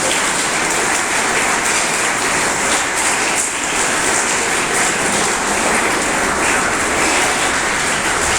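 Dense, steady applause from an audience at a government secondary school event in Sialkot fills the whole stretch, loud and continuous like heavy rain, cheering on schoolchildren.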